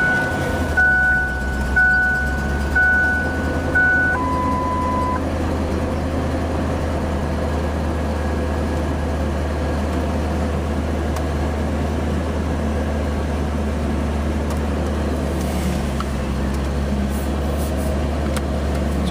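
A 2000 Ford Explorer engine idles after starting with a steady low hum throughout. Several short electronic chime tones sound near the start, and no one speaks.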